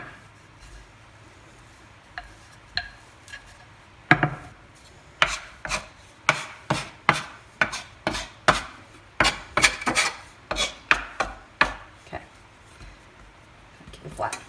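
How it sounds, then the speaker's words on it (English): Buttermilk biscuit dough being rolled out and worked on a counter, giving a string of sharp, close knocks and rubbing scrapes in a steady uneven rhythm, sparse at first then dense. "So I need to roll it out a little longer."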